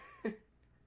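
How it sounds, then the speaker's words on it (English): A single short, raspy cough from a person, close and brief, with a sharp onset and quick fade. "I've been coughing a lot."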